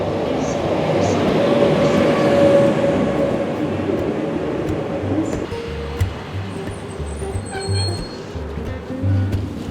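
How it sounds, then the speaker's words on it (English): Passenger train heard from on board, a loud continuous low rumble and rolling roar with rhythmic wheel thumps and occasional clinks and rattles around the carriage, steady throughout. "this train is rocking like a boat in a storm."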